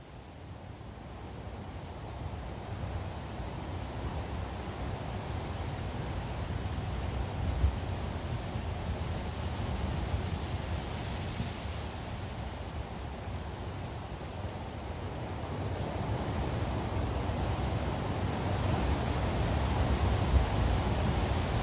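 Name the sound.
big ocean waves sound effect recording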